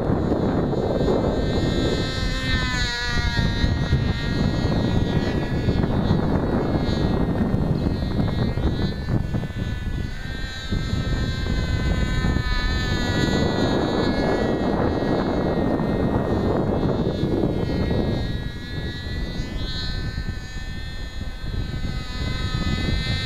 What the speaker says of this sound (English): Pretty loud, these bloody glow motors,